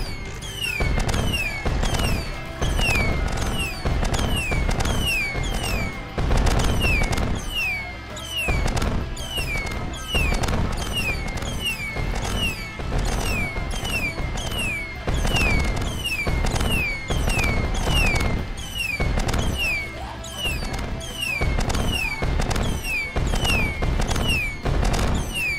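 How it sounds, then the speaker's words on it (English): Fireworks are fired at zombie hordes in the video game 1 Million Zombies, producing rapid repeated crackling bursts and whistling launches in a dense, loud, continuous barrage. "Shoot the fireworks! Shoot the fireworks at everything!"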